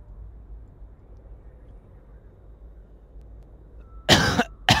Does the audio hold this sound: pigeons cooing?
no